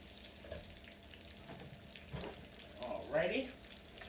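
Jumbo shrimp fry in hot oil with a steady, soft sizzle and crackle, joined by brief splashing and running-water sounds near the end, close but quiet.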